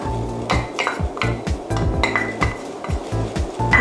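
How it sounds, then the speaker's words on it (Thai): Mushrooms stir-fried in hot oil in a pan, with a spatula clinking and scraping against the metal in quick, uneven strokes over a low background sizzle. "ค่ะตอนนี้น้ำมันเราก็ร้อนแล้ว แล้วก็เห็ดของเราก็ใส่ลงไปผัดนะคะ"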